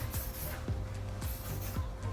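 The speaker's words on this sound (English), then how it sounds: "I'm gonna just take it and spray it all over my hair, and especially around my bun" Short bursts of Matrix hairspray misted over hair and around a bun, several quick hissing sprays in a row, close to the ear, with no talking.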